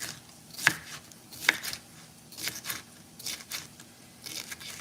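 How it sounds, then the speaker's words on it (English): A knife chops through firm green pepper on a board, crisp cuts in short irregular bursts with pauses between. "I'm chopping up half. This green pepper is kind of huge"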